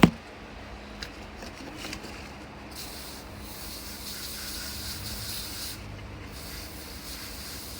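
Fruit picked from a container garden being rinsed under running water, a steady broadband hiss and splash that swells after a few seconds and continues throughout, with a few knocks at the start.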